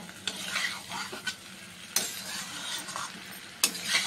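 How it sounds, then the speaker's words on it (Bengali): Fried paneer and soybean pieces, seasoned with salt and turmeric, are stirred into a hot kadai for veg biryani, giving a continuous sizzle broken by several sharp scrapes and clinks of a spatula against the pan. "এবার এগুলো দিয়ে দিচ্ছি। দিয়ে একটু কষিয়ে নিতে হবে।"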